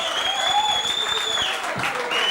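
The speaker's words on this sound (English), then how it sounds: "give me a huge round of applause" An audience claps loudly and steadily in a dense, continuous wash, with whistling tones and some raised voices mixed into the applause.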